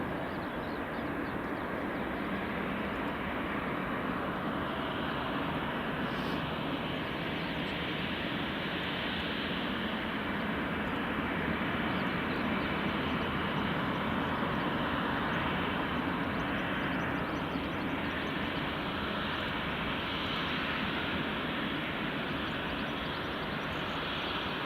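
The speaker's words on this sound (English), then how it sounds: "So this Jet2 is just taxiing along" A Jet2 airliner taxis at Glasgow Airport, its engines giving a steady, broad roar at a distance. The sound holds an even level for the full stretch, with no voices.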